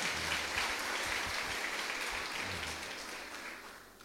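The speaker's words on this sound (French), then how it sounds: "Applaudis Gusselet, s'il vous plaît." Applause for a student at a graduation-style ceremony, a soft, fairly distant patter of clapping that slowly fades away.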